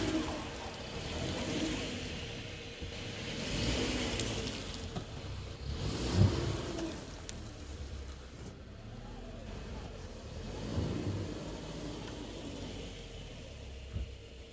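A car bogged down in mud, its engine revving in repeated swelling surges over a steady drone, with a brief thump midway and people talking over it at times.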